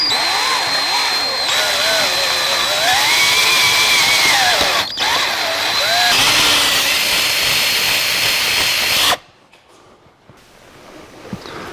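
A power drill with a 7/32 inch bit bores through a stuck steering column bolt on a 1982 Jeep CJ7, whining loudly and steadily with pitch wavering under load for about nine seconds, then stopping abruptly into quiet rustling.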